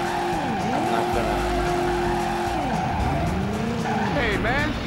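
In a driving video game, a car's engine whines and shifts pitch while tires squeal in long sweeping skids, with a voice speaking over the steady loud racing noise.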